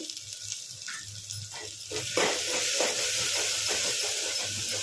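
Ginger garlic paste with turmeric fries in a pan, a steady hissing sizzle that jumps louder partway through as the paste is stirred, with a low hum beneath.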